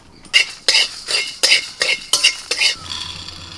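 Whole cumin, coriander seeds, black peppercorns, dried red chillies, cardamom and cloves dry-roast in a pan, stirred with a utensil in about seven sharp, rhythmic scraping strokes, close and loud, followed by a faint soft sizzle.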